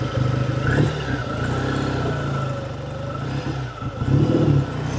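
A 1948 Triumph T100 Tiger motorcycle with a 500cc engine, running close and loud, its engine note swelling and easing with throttle and a stronger rev near the end, with no talk.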